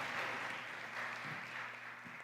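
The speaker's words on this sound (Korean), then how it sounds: "큰 박수 부탁드립니다" A church congregation applauds at the close of a talk show event, steady dense clapping from many hands that fills the whole moment, fairly distant and even, with no talking over it.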